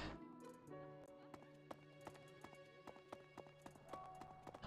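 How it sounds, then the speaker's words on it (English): Pegasus hooves clip-clop in the video game Fire Emblem: Three Houses, a series of crisp, moderately spaced hoof strikes over sustained musical tones, fairly faint and steady throughout. "That's a flying horse."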